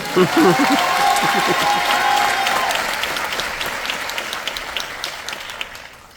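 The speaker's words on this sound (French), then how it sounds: "On peut l'applaudir, s'il vous plaît." Audience applause at a business event in Toulouse, a loud burst of clapping that starts at once and then slowly thins out and fades, with a voice speaking briefly over the first moments.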